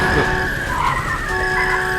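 A car with failed brakes skids under a loud, constant engine drone, with a wavering tire squeal running throughout at close range.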